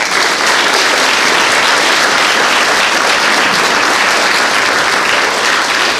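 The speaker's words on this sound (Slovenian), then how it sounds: "pa dajmo vsem skupaj en velik aplavz." Dense, steady audience applause filling a Mother's Day celebration hall, a continuous roar of many hands clapping at close range without pause.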